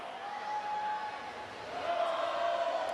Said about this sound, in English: I'm sure she can hear the crowd cheering her